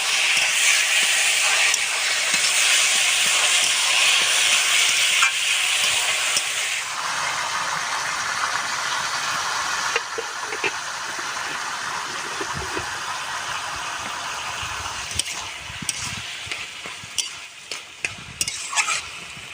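Taro curry is stir-fried in a clay pot, giving a loud, continuous sizzle and hiss close up. Scraping stirring strokes run through it, and later the sizzle eases while separate scrapes stand out.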